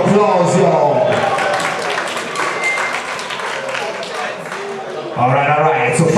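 Loud audience applause and cheering at a ballroom battle event, a dense, steady crowd roar lasting several seconds that dips midway and surges again near the end, with a voice talking over it.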